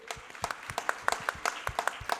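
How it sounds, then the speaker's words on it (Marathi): Parents in an audience at a school foundation event clapping in a sparse, uneven rhythm, distinct individual claps spaced out rather than a dense roar, fairly close and moderately loud. "आणि स्वतःसाठीच आज टाळ्यांचा कडगडाच होऊन जाऊ दे"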